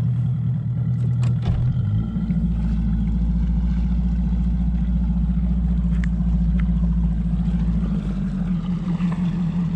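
A bass fishing boat idles on Lake Sam Rayburn, its engine a steady, close low rumble that holds evenly throughout, with no voices heard.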